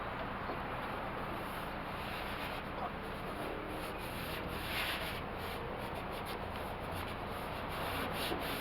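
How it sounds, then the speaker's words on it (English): A squeegee drawn with light pressure across a 1980 Dodge D150 pickup surface, pushing fluid off in a steady, close, continuous wet rubbing swish with no talk. "The light pressure at first is important to squeegee immediately, completely get all the fluid out."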